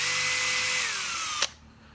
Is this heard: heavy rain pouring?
no